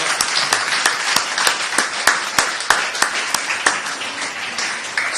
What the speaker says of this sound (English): I just give a hand of applause to everybody who stepped up and did that tonight